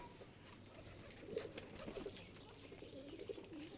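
Pigeons on a rooftop coo softly in a few low, repeated calls against quiet background noise, faint and fairly close.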